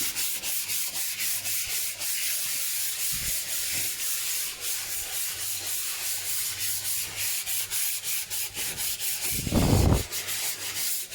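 Steady rhythmic scratching of sandpaper rubbed back and forth by hand across an MDF board, continuous strokes with a brief thump near the end.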